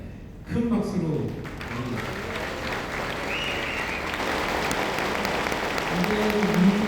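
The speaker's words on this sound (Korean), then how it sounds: "큰 박수로" Audience applause welcoming a developer chairman at a Korean presentation on decentralized technology: a full burst of clapping rises at once and holds steady, with voices speaking over it near the start and a voice again toward the end.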